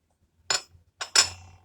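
Two glass cups are set down one after the other on a surface while coffee is being made at home, giving two short, bright clinks close by with quiet between them.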